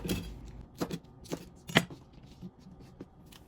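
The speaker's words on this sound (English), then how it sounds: "we're just going to slice our green onion lengthwise like that" A knife slices lengthwise through green onion on a cutting board, giving several separate crisp cuts spread across a few seconds, each one close and moderately loud, with nobody speaking.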